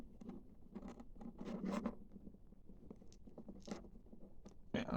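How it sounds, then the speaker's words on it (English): A craft knife slices along a glued foam join: short, scratchy cutting strokes in an irregular rhythm, close and fairly quiet, with no talking. "I'm going to take my knife and I'm just going to cut carefully along"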